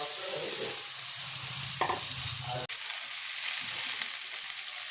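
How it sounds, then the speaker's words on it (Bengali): Leftover rice fries and is stirred in a hot wok with a dense, steady sizzle and scraping stirs. A sharp clack of the utensil lands midway. "এটা এই হচ্ছে বাঙালির ভাত ভাজা।"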